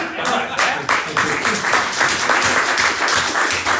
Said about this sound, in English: Round of applause for Anuraj.